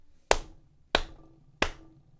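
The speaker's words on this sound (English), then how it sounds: "Three claps for a good game." Three sharp hand claps ring out alone, evenly spaced about two-thirds of a second apart, each ending in a short room decay.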